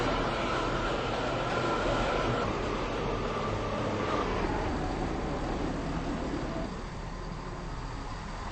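A three-coach passenger train in a video game rolls steadily along, a continuous rumble and rail hum at even loudness that eases slightly near the end.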